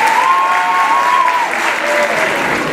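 A hall full of people at a school excellence ceremony applauds teachers in a loud, continuous burst of clapping, with a faint whistle-like tone drifting above the crowd noise early on.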